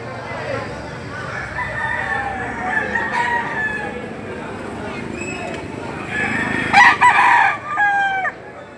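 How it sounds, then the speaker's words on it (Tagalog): Chickens and roosters parked at a gamefowl spot, with a rooster crowing loudly near the end amid steady crowd chatter and background noise; people talk throughout. "bibidyo natin itong mga manok na nakaparada dito"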